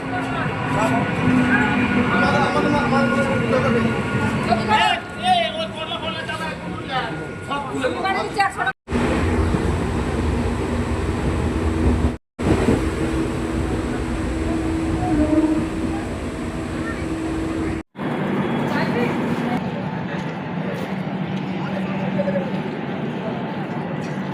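Steady low rumble and rattle inside a moving passenger train near Bishnupur, with voices and background chatter over the carriage noise and a few sudden momentary dropouts.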